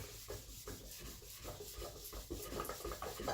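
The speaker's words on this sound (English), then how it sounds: "I'm having to sand these lines a little more because you can feel them." Sandpaper rubbing over the painted finish of a Suzuki Intruder motorcycle, working down raised lines, gives a steady close scratchy rasp in repeated back-and-forth strokes that grow slightly louder toward the end.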